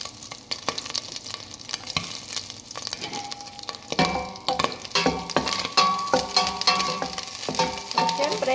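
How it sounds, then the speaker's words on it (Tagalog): Garlic is dropped into melted butter in a pan for an Arabic dish and sizzles steadily, louder from the midpoint on, with scraping stirs and utensil clicks and no talk over it. "ilagay na natin ang ating garlic para disahin na po natin"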